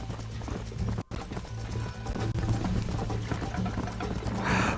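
A horse in a video game gallops with a quick, rhythmic clip-clop of hooves, close and continuous, broken once by a very short gap.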